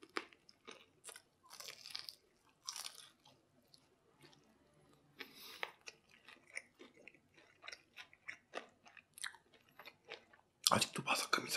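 Crisp crunching and chewing of fried chicken, repeated bites close to the mic, with brief quiet gaps and a louder burst near the end.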